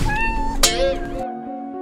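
Kittens meowing close by, several high, wavering cries in quick succession, one brief sharp squeal partway through, then a longer sustained mew at the end, with no talk.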